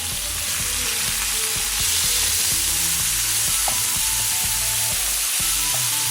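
Marinated shrimp with shallots, garlic, fish sauce and black pepper sauté in a pan over lowered heat, giving a steady, close, continuous sizzle with occasional stirring scrapes and clatter throughout.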